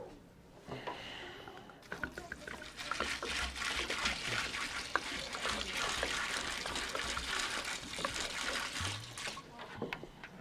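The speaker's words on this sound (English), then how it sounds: "I'm going to open up my water, and I'm going to dump" Water dumped into a mossarium build, a steady close pour and trickle that starts after a quiet moment and runs for several seconds before tapering off.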